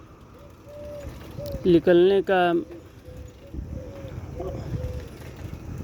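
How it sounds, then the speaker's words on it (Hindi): Birds call and coo at dawn on the bank of the Ganges, one loud harmonic call rising above the steady quieter cooing, while someone speaks at the start. "यही है कि पक्षियों की आवाज़ हमें सुनने को मिल गया"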